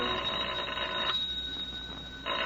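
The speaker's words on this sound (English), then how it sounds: "It's not the door, it's the phone." A telephone bell rings in a 1940s radio drama, loud and close, two bursts of ringing separated by a quiet pause with a faint steady tone underneath.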